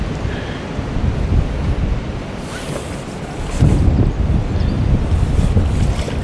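Strong wind at a lakeside carp fishing match at Hayfield Lakes, a steady broadband roar buffeting the microphone, swelling in a louder gust partway through, with no talking.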